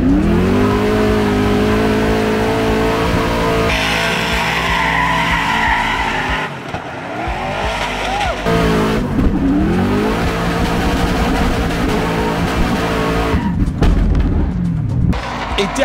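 A rally car drifts hard at speed along the Calmont guardrail, its engine roaring loud and continuous with revs rising and falling, tyres scrubbing as it slides through the bends, the note shifting sharply a few times.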